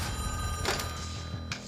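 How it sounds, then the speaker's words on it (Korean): A telephone bell rings in a Korean movie trailer about a diplomat, with two short bursts of ringing over a steady background of music and ambience. "주류에서 밀려난 외교관 민준에게 걸려온 한 통의 전화"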